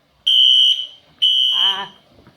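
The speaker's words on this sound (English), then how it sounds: "the fire alarm went off for like 2 seconds" Two loud, shrill electronic fire alarm beeps, each lasting about half a second with a short gap between, sounding close in an otherwise quiet room; a brief startled vocal noise overlaps the second beep.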